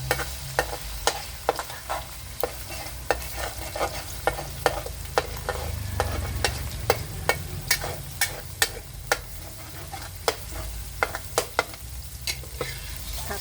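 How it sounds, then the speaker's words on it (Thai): Eggs sizzle and fry in a hot wok while a metal spatula scrapes and stirs them in a steady, repeated rhythm of sharp clinks over continuous frying crackle, close and fairly loud. "ให้ไข่เซ็ตตัวนิดนึงนะคะ กระจายไข่ค่ะ"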